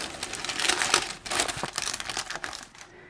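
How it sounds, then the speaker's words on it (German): Baking paper is pulled taut and taped down over a model railway tunnel build, giving close, crisp crinkling and crackling rustles in irregular bursts that fade out at the end. "spanne ich mir jetzt mal mit einem Klebeband Backpapier drüber"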